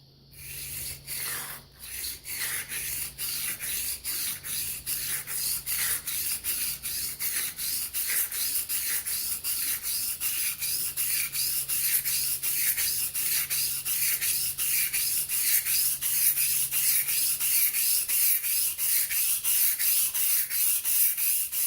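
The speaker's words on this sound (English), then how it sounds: "do this one more time with this 1000 grit stone and see if we can't really get a good bevel set" A Gold Dollar 66 straight razor's bevel being honed on a wet 1000 grit stone, a close, loud, steady rhythm of short rasping back-and-forth strokes repeating evenly for the whole stretch.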